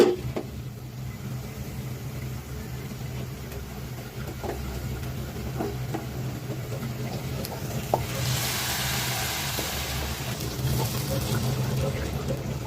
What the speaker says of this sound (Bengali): জাস্ট টারকাটা এভাবে ঢেলে দিলাম